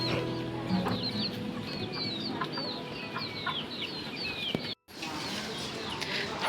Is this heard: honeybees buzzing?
no